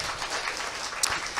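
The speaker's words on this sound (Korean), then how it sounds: "처음 오신 분들 위해서 우리 큰 박수 부탁드리겠습니다." Seminar audience at a side-business information session applauds first-time attendees, a brief, steady wash of clapping with one sharper clap near the end.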